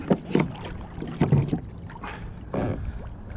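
Sit-on-top kayak, a Wilderness Systems Tarpon 120, being paddled on open water while fishing: a few irregular paddle strokes splash and gurgle near the hull, with light wind noise between them.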